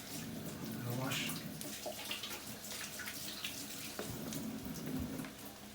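Tap water runs into a kitchen sink for a quick rinse while cooking beefburgers, a steady close hiss with light splashing and clatter throughout.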